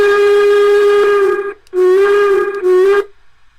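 A loud, close whistle from a battery-powered model steam locomotive blows in two long tooting blasts separated by a brief gap, ending abruptly.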